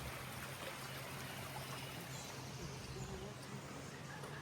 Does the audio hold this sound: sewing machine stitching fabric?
no